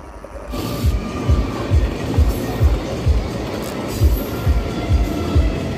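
A train rolls past a railway crossing on the road to the Sabuj Dwip picnic spot near Kolkata, its wheels thumping over rail joints in a steady, close clickety-clack rhythm that keeps going throughout.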